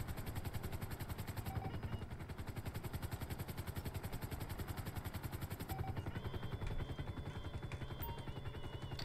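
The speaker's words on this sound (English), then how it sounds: "And they don't see the helicopter 1 meter away" A helicopter in GTA Online hovering close by, its rotor chopping in a fast, steady pulse with a constant engine whine, loud and unbroken throughout with no voices.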